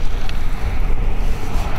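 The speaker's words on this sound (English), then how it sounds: "Battling the wind and the rain" Strong wind and rain buffet the outdoors over deep water during a muskrat trapping trip, a loud, continuous low roar of gusts battering the microphone with no talk.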